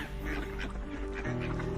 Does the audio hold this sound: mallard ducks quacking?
yes